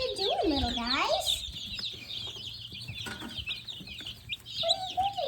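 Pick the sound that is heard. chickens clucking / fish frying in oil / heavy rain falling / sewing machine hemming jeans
chickens clucking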